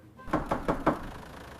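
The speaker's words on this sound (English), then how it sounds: "do you hear that? Who is at the door?" Four sharp knocks on a door in a quiet home, evenly spaced and close, with no talking over them.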